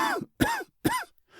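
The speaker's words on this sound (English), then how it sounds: "How long have you had that cough?" A voice acts out a man's coughing fit in a nitre-covered wine cellar, producing three rough, hacking bursts with short gaps between them, close and loud, with no other speech.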